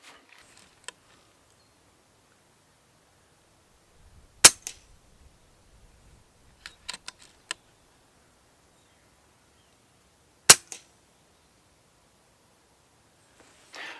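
FX DRS Classic 600 FAC .22 air rifle fired outdoors: two sharp, isolated cracks several seconds apart, with faint clicks and handling rustles between them.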